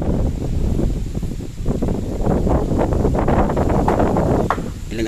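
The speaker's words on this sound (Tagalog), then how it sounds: "Mahangin to, mahangin to, masyado hangin." Strong wind buffets the microphone at an outdoor hut-building site, a loud continuous rushing roar with gusty surges and rustling throughout, and no one speaking.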